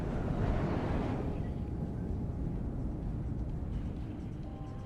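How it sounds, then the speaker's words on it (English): Two Tornado jets roar in to strike an Alpha Jet in the WARNO war game, a loud, steady broadband rush of jet engines and combat noise that fades slightly toward the end. "2 tornadoes coming in there, taking out that Alpha jet."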